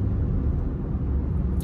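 A loud truck rumbles steadily close by, a broad low roar filling the whole moment without a clear rise or fade, with no speech over it.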